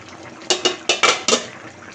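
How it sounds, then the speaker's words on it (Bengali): A cooking pot lid lifted off a pot of beef with pumpkin, giving a quick run of five or six close metallic clinks and rattles. "ঢাকনাটা খুলে নিব।"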